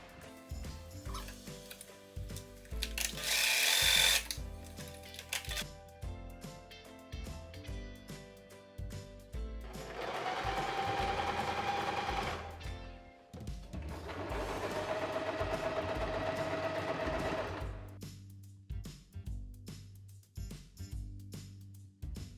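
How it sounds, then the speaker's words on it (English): A sewing machine stitches the side seams of baby trousers in two sustained runs of a few seconds each, its steady whirring hum separated by pauses, with background music playing throughout. "I'm going to sew the side first"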